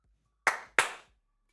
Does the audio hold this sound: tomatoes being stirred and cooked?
no